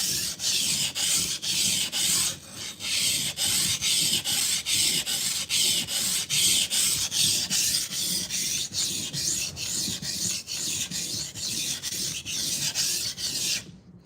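A knife blade being sharpened on a 400 grit whetstone, with rhythmic back-and-forth rasping strokes at about two per second, loud and close, continuing steadily with no talking.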